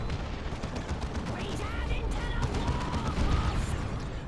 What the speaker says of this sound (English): I think I hear Devastator Plasma shots going in